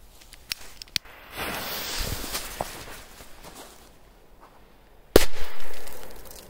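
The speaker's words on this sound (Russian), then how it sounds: "Вот так рвануло P200" Snow crunches underfoot before a P200 firecracker goes off in the snow with one sharp, loud bang, followed by a brief rushing tail. Fainter pops and clicks come earlier.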